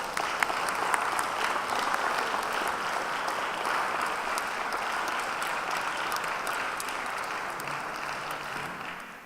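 An audience at a Founder's Day function breaks into sustained applause, a dense, even wash of many hands clapping that holds steady and tapers slightly at the close.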